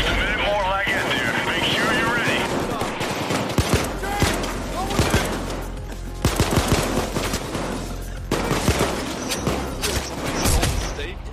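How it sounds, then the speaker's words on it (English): Heavy gunfire in a John Wick video game: dense, overlapping bursts of automatic shots and single cracks fill the whole stretch, loud and close, with game character voices shouting underneath. "the gunfire is covering up the voice lines."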